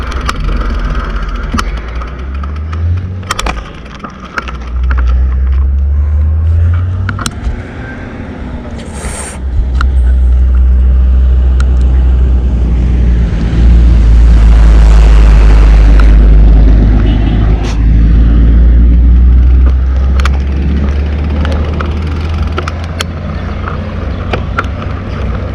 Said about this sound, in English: Here, let this truck past.